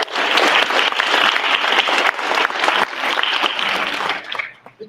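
A crowd at an awards ceremony applauds steadily for several seconds, a dense wash of clapping that tapers off at the end.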